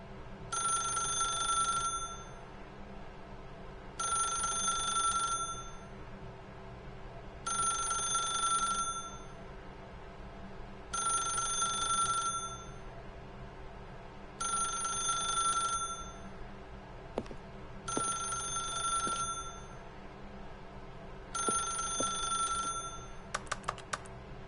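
A telephone rings in the video game The Stanley Parable: seven evenly spaced bright ring bursts, each about two seconds long, over a low steady hum. A few faint clicks fall between the rings.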